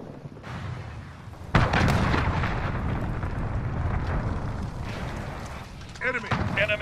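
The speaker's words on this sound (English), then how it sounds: "Enemy cruise missile." Incoming enemy cruise missile explosions in the shooter game Call of Duty: Modern Warfare: a heavy blast hits, then a long rumble continues, with voices talking over the noise.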